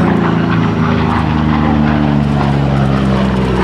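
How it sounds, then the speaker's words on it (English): An FG-1 Corsair propeller fighter roars past during a photo pass at the Great New England Airshow, a loud, steady, droning engine throb that stays close and strong throughout without any voices. "Photo pass coming by in the FG1 Corsair"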